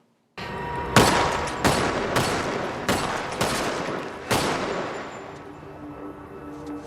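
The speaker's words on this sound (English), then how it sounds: "How many shots does Morgan fire into the guy shooting at Carol?" Five sharp gunshots ring out one after another in a tense scene from The Walking Dead, each crack loud and close, with echoing decay and a lingering ambient tail after the last shot.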